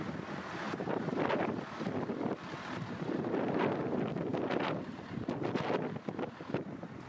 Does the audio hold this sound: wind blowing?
yes